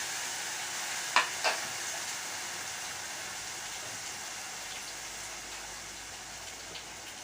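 Onions with ginger garlic paste frying in a pan, a steady soft sizzle throughout with a couple of brief stirring clicks near the start.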